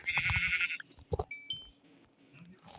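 Sheep in the Minecraft video game giving a short nasal bleat, followed by a few quick game sound effects and clicks, close and clear over a faint background.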